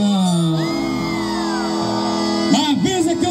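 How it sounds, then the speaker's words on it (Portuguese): Crowd at a live forró show in Varzelândia, Brazil, letting out a burst of shouts and whoops over a sustained musical tone, the cheering rising loudly near the end. "Cadê o gritão da minha galera"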